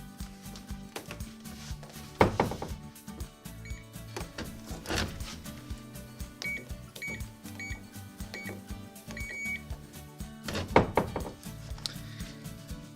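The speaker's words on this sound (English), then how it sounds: "if you've done it correctly, it should beep twice" A MiLocks XF 02 keypad door lock gives short electronic beeps amid key presses and mechanical clicks and clunks, faint and close, with scattered sharp knocks between them.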